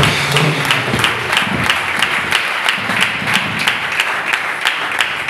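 A congregation at a church ordination ceremony applauds, a sustained, rhythmic clapping in steady unison beats across the whole stretch, fairly close and loud.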